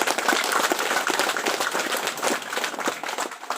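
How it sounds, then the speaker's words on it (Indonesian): Audience applause at the official opening ceremony of a gathering of followers of an indigenous faith in Indonesia, a dense, steady burst of many hands clapping close and loud for several seconds. "Tepuk tangan dulu."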